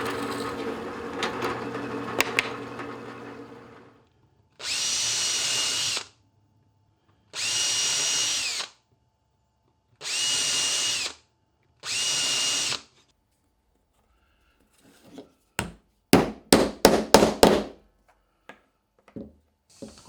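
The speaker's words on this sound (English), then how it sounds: "So I need to drill a 7/16 inch hole." Power drill: a long run of motor hum, then four steady high-pitched bursts as 7/16-inch holes are bored for a camera gantry, separated by short pauses, ending with rapid clicking and tapping.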